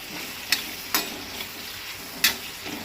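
Chopped onion frying in hot oil for a Goan mushroom tonak, a steady faint sizzle broken by a few sharp stirring scrapes, no voices.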